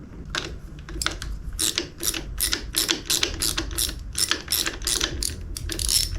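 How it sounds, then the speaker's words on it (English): A small 1/4-inch ratchet turns bolts on a Yamaha FZ-07/MT-07 motorcycle being rebuilt after a crash, giving quick close bursts of crisp clicking in an irregular rhythm with short pauses between strokes. "I like using my little 1/4-inch ratchet."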